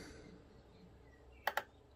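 Two quick, sharp clicks from a keyboard with a built-in mouse, close by in an otherwise quiet room, landing one right after the other.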